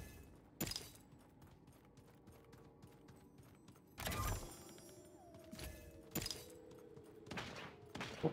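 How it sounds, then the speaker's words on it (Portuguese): Sporadic gunfire in an Xbox One video game, with a few sharp, separated bursts standing out over quiet in-game background ambience and mechanical clicks. "Opa, tiros."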